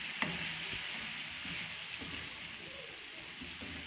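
Charsi karahi sizzles quietly in oil while being stirred and mixed, soft frying crackle with faint utensil scrapes throughout, fairly distant and low in level.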